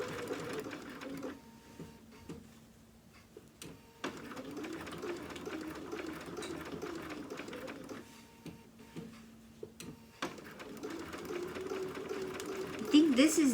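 A sewing machine stitches fabric pieces for a dog dress outfit, running in steady bursts that stop and restart as the fabric is turned, with a person talking over much of it.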